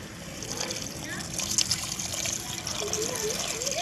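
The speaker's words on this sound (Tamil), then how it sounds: "நம்ம தண்ணி ஊற்றி வேக வைக்கலாம்." Water poured into a cooking pan over sautéed ingredients while cooking country chicken, a steady trickling and splashing running throughout at moderate level, with a voice speaking over it.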